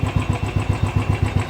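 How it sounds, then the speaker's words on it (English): Royal Enfield Thunderbird 500 single-cylinder engine idling just after a cold morning start, a steady, close thumping pulse with slightly uneven beats as it hesitates, no voices. "The engine is very cool because I've started it just now in morning, so it's hesitating a bit."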